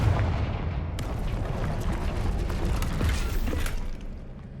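A Confringo spell blast in the Hogwarts Legacy video game, heard as a loud, rumbling explosive burst with crackling debris that fills the whole span and tails off near the end.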